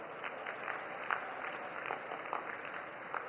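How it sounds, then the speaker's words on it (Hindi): Crowd applause at a political rally in Harda where Narendra Modi is addressing a public meeting, a steady dense clapping with a few sharper peaks, moderately distant and without speech over it. "मैं सबसे निवेदन करता हूं कि जोरदार ताली बजाकर उनका स्वागत करें।"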